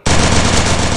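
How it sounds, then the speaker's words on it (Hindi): Gunfire in a battle-royale mobile game match, one loud, dense burst of rapid shots filling the whole second with no talk. "प्रेसाइज किंग राकेश का हेडशॉट"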